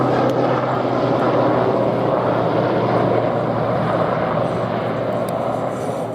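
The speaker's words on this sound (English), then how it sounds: "This aircraft is one of the fleet of historic helicopters" A historic military helicopter from a fleet of vintage machines flies at the Midlands Air Festival, its steady rotor thrum and engine roar loud and continuous throughout.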